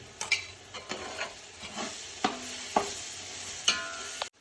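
Chili, coriander, ginger and garlic paste being fried and stirred in a pan for veg pulav, with a soft sizzle under repeated scraping and clinking strokes of a spoon at an irregular pace, close by, no talking.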